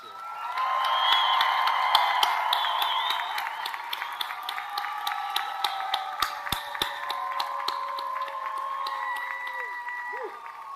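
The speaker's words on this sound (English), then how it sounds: "how about one more great round of applause for the class of 2022?" Sustained applause from a seated audience at a College of Business Administration commencement ceremony honouring the class of 2022, a broad, steady wash of clapping with some sharp individual claps standing out, lasting throughout.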